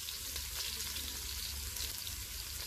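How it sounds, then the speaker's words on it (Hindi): Chopped onion and cumin seeds frying in mustard oil in a cooking pot, a steady close sizzle and crackle with fine popping spatter, continuous and alone. "इसको लाइट गोल्डन होने तक फ्राई करेंगे"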